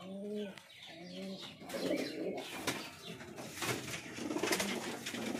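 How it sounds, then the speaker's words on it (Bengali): Fancy pigeons in a loft, among them chila, lotan and potter breeds, coo in repeated low throaty bursts, with a busy chorus of overlapping calls and some chirping and rustling close by. "তো এই ছিল বিকাশদার পায়রা।"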